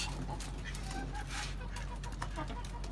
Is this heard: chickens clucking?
yes